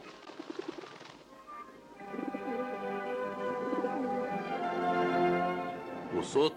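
A dove coos in a soft, low rolling call that rises and holds for several seconds, after a brief bit of quieter sound at the start.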